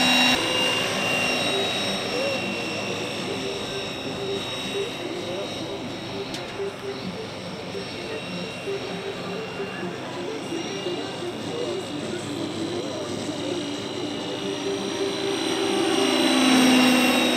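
A Bell 206 helicopter's turbine engine spools up at an outdoor summer festival, a sustained loud whine and rushing roar building steadily, with people talking over it.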